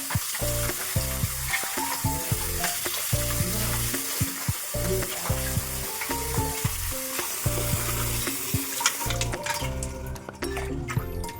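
Mutton frying in a pan sizzles loudly and continuously up close, with repeated stirring and scraping sounds in an uneven rhythm throughout.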